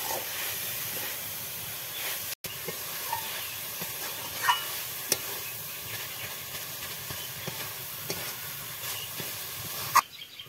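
Coconut fries in a pan with date-palm jaggery, making a steady, moderately quiet hissing sizzle throughout, with a few faint clicks and one brief cut. No voices.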